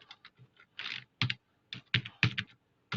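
Quiet, close keystrokes on a computer keyboard while filling in a table in MS Word, irregular taps in small clusters with short pauses between them.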